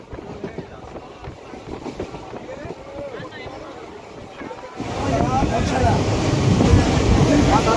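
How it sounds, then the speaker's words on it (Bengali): A passenger train runs through Bolpur toward Rampurhat in Birbhum, West Bengal, its rumble and clatter heard from onboard, growing noticeably louder and denser partway through. "বোলপুরের বুক চিরে আমাদের ট্রেন চলছে রামপুরহাটের উদ্দেশ্যে"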